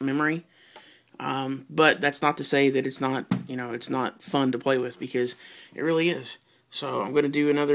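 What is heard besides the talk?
None of the usual background noises is heard.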